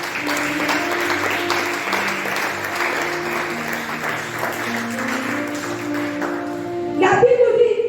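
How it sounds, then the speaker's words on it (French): A church congregation at an evangelistic service applauds and cheers for Jesus, a dense sustained wash of clapping and voices under amplified sound, swelling louder near the end. "Est-ce que tu peux acclamer pour Jésus, s'il te plaît?"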